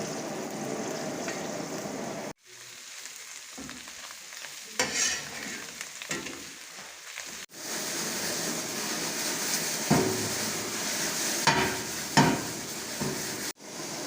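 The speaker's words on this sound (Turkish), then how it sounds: "soğanımızı ve sarımsağımızı da ekleyeceğiz. Karıştır Yusuf güzelce." Onion and garlic sizzle in a pan for an oyster mushroom dish while being stirred, giving a continuous close frying hiss with scraping stir strokes and a few brief breaks.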